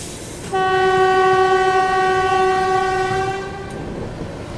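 The 20504 Dibrugarh Rajdhani Express passes Thana Bihpur railway station without stopping. A loud, sustained horn blast rings for about three seconds over the rumbling roar of the moving train, then fades into the rail noise.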